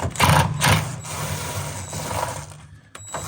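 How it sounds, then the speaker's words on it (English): A handheld screw gun with an 8mm socket loosens bolts on the fuel filter of a Ford F450 cab chassis with a 6.7L engine, producing close, short whirring bursts with mechanical clicking and a few pauses between them. "got my screw gun, 8mm socket. There's 5 8mm bolts."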